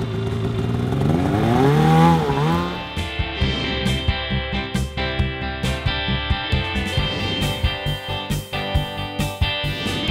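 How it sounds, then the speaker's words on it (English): A snowmobile engine revs hard and climbs in pitch as the machine pulls away, then settles into a loud, steady running drone with quick rattling clatter throughout. "has been so much fun riding the snowmobile"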